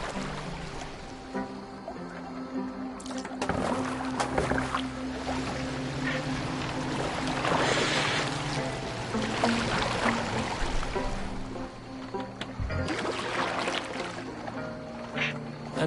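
Wooden longship steered through open water in Assassin's Creed Valhalla, with steady water wash, creaking and lapping waves under a continuous music bed, moderately loud and unbroken throughout.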